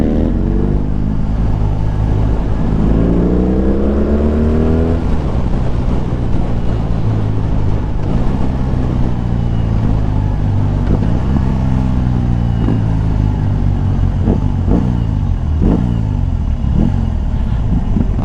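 A BMW R18 motorcycle's large boxer engine revs loudly and up close, pitch sweeping up and settling back to a deep idle rumble, with a run of sharp throttle blips toward the end.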